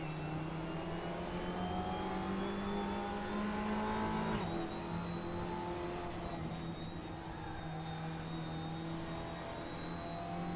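Audi race car in a racing video game, engine roaring and revving steadily at high pitch with gear shifts, sustained and loud throughout, no talking.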